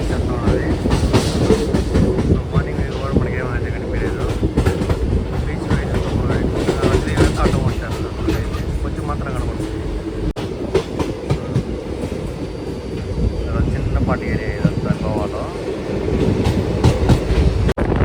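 A train runs along a railway track near Goa, with steady rolling rumble and clickety-clack of wheels over rail joints throughout, close and loud, with some faint voices in the background.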